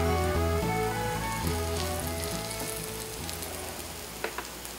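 An Irish potato pancake (boxty) frying in a pan after being flipped, giving a dense, steady sizzle with fine crackling pops, loud and close, slowly easing slightly toward the end with no talk.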